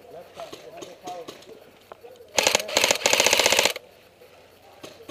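An airsoft gun fires a rapid burst of sharp, evenly spaced cracks lasting over a second, loud and close, with faint background chatter around it.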